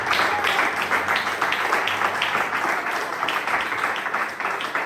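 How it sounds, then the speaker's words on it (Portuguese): A church congregation applauds during an evening service, a dense, steady wash of clapping that holds at full strength for the whole stretch, close and loud, with a few voices mixed in. "Você pode aplaudir o Senhor nessa noite porque Ele merece?"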